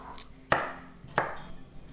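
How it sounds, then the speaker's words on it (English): Onions being cut on a board, two distinct knife chops about two-thirds of a second apart, close and crisp against a quiet background. "How fond you are of cutting onions."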